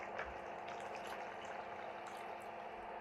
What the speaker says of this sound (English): Pour in 2 small cups of water.